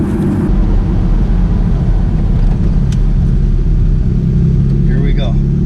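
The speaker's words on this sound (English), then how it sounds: "we're gonna hit the on-ramp, and we're gonna see what this old school Porsche really can do" Old-school Porsche 930 Turbo pulling onto a highway on-ramp, heard from inside as a loud, steady low engine roar and road rumble, with someone speaking over it.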